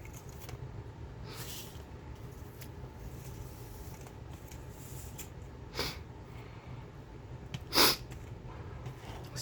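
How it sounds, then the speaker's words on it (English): Two short, sharp nasal sniffs, several seconds apart, over a steady low background hum. "So sorry about my sniffles."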